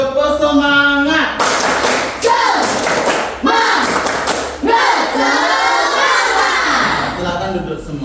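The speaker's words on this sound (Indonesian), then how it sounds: "Tepuk semangat" Elementary school class doing a rhythmic cheer clap in a classroom, several sharp group claps in a pattern mixed with children's shouting voices, loud and close.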